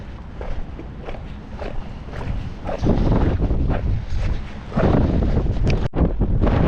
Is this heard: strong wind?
yes